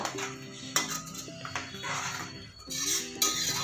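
Spoon scraping and clinking against a metal pot while jaggery and pumpkin are stirred for sweet pumpkin kheer, a steady run of close, light knocks and scrapes.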